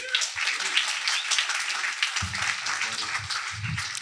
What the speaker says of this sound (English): I'm going to ask you to applaud Corey with UJoin.